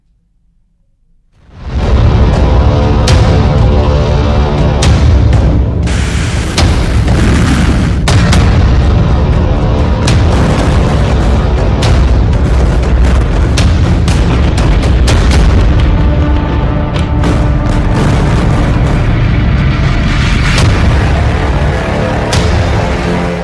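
After a brief quiet start, powerful explosions from Israeli strikes on Hezbollah erupt into a loud, continuous roar of booms and sharp bursts that lasts to the end.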